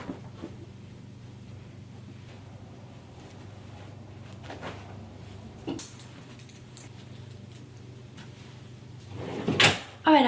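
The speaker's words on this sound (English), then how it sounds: "now I'm just gonna put all my stuff back in drawers" Folded clothes go back into dresser drawers at home, with soft rustling and a few muffled wooden knocks and slides, then a louder drawer bump and closing thud near the end.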